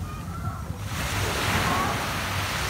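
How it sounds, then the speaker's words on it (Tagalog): Steady roar of strong ocean surf and breaking waves at a beach fills the clip, rising louder after the first second, with wind buffeting the microphone. "Malalakas yung alon."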